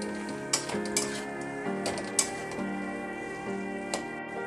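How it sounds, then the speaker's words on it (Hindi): Mawa (milk solids) frying in hot ghee sizzles steadily, while a spoon scrapes and taps against the pan several times in an irregular rhythm. "मावा को ब्राउन होने तक हम भूनेंगे कि अच्छी तरह से ब्राउन हो जाएगा"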